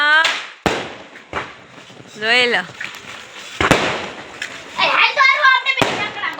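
Firecrackers bursting during Diwali celebrations, several sharp loud bangs spread irregularly across the scene, with excited voices talking and exclaiming in between and over them.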